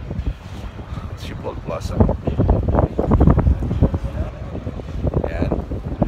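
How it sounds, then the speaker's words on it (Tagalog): Gusty wind buffets the microphone outdoors at Schiphol Plaza by Amsterdam's airport, rough low rumbling that swells and eases under a person speaking. "Medyo may hangin."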